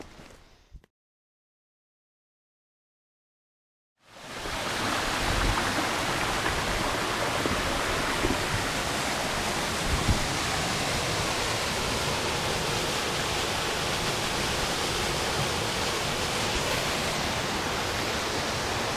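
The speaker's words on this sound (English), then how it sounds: "this is the first fall you'll see when you come up MacInnis Brook, like the main brook" Waterfall on MacInnis Brook, Cape Breton Island, a loud, steady, broadband roar of falling water that starts abruptly after a few seconds of silence and then holds constant, close by, with no voices.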